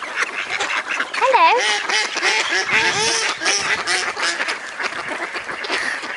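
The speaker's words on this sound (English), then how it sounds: "Ducks coming towards me." Several ducks quack close by in a steady run of calls, mixed with a person speaking over them.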